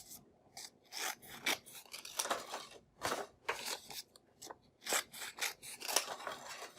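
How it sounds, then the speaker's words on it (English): Scissors cutting folded paper into quarters, a string of short rasping snips in uneven bursts, close and fairly quiet, with no talking. "I'm going to cut it into quarters."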